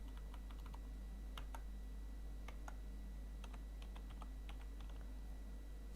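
Someone types on a computer keyboard in short, quiet bursts of key clicks with pauses between them. A low steady hum runs underneath.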